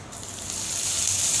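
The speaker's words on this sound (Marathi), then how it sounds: "आता आपण याच्यात आलं लसणाची पेस्ट टाकूया." Coarsely crushed ginger-garlic paste hits hot oil with bay leaf, black pepper and curry leaves for tomato saar, giving a steady sizzling hiss that swells and holds through the whole moment, no voices.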